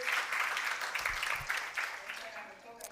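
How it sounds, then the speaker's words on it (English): Audience applause at a day of the SSIG 2024 gathering: a steady, soft wash of many hands clapping together, held at an even level for a few seconds with no distinct individual claps standing out. "A round of applause"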